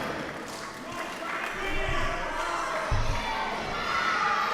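A wrestling crowd reacting with displeasure at a live show, a loud mass of voices and shouts rising and falling, with a thud partway through and commentators talking over it.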